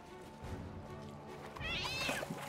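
A pet cat meows in the pirate video game Sea of Thieves: a quiet, drawn-out mew rising toward the end over a low hum of game ambience.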